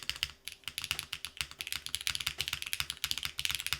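Luminkey Lumino75 mechanical keyboard typed on outside its case, rapid close clacking keystrokes in an uneven continuous rhythm, crisp and alone.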